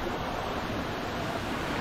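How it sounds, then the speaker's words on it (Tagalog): Strong floodwater rushes through a flooded rice field in a loud, constant roar of churning water, unbroken from start to finish, with no talking. "Laka ng tubig."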